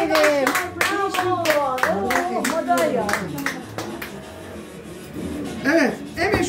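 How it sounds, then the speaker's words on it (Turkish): A few people clap for a child who has just won points in a home game, the scattered claps sounding up close beneath cheerful children's and adults' voices that carry on over and after them. "Alkışlar."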